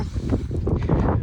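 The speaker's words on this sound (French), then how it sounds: "aujourd'hui il faisait du vent" Wind buffeting a handheld phone microphone outdoors, a dense, gusty low rumble that rises and falls throughout the short stretch, with no speech.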